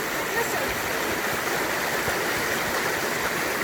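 Water rushes steadily through a rice field channel, a loud, close, continuous broadband gush with no breaks.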